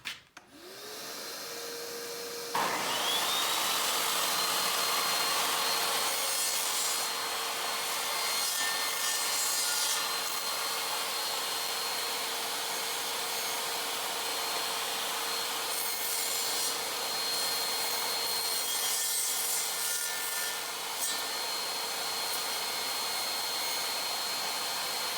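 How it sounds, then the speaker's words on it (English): A table saw starts up and spins, then cuts a wooden slat with a dado blade, a steady whining motor hum under a long, rough rasping cut that holds at an even level for the rest of the clip. "we're gonna be turning the saw on."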